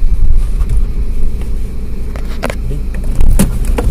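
A Seat Altea, a front-wheel-drive hatchback, lurches over bumpy rough ground with a loud continuous engine and tyre rumble, broken by repeated sharp knocks and thuds from the suspension.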